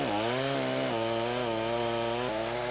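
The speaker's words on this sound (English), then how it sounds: "So, Andy, this is your one concession to modern technology, this chainsaw?" A chainsaw cutting into a big tree for felling, its engine droning loudly and steadily with a few pitch shifts as the cut load changes, up close with no talk.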